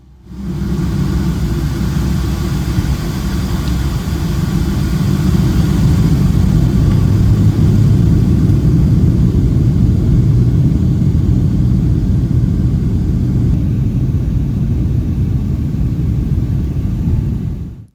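A Delta Boeing 757 takes off from a runway at Atlanta, heard from inside as a loud, steady low engine roar and rumble that holds for the full length without any break.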